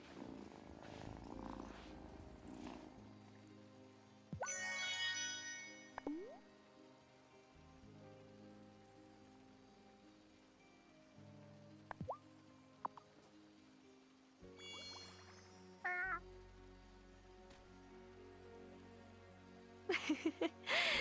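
A cat in the Wylde Flowers farming game purrs and gives a few short meows, set against soft background music in a quiet scene.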